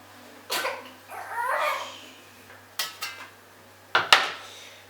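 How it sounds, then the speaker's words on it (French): A knife cuts into a firm nectarine in a home kitchen, giving a few short, close scraping and tapping knocks against the fruit and board, with quiet gaps between them. "Ici, je prends une nectarine. Vous voyez comment je la coupe pour tourner."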